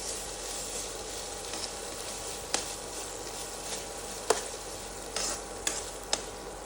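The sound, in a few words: khoa (milk solids) lightly frying in a pan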